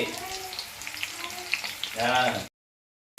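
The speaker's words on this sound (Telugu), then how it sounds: "ఆయిల్ కాగిందండి ఇప్పుడు ఉల్లిపాయ వేసుకుందాం మనం" Onions with curry leaves go into hot oil for grated mango chutney and set off a loud sizzle and crackle that swells near the end, then stops abruptly.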